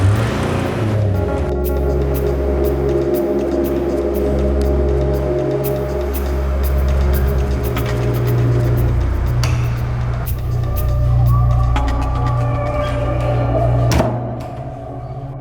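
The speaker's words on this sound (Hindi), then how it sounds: "गाड़ी जुमरौली की लॉज पे ले।" A car engine drones steadily while driving, with a low, continuous hum and occasional louder swells and clunks, heard alone without speech.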